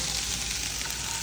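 Hot oil sizzles and spatters steadily in a pan as red gravy fries for paneer butter masala, a dense, continuous crackle close by with no talk.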